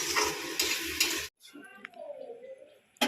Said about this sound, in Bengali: আর এদিকে মাংসের মশলা কষানো হচ্ছে